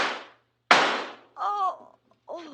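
Gunshot sound effects in an old time radio drama, two sharp, loud bangs with ringing decay a moment apart, followed by short strained vocal sounds.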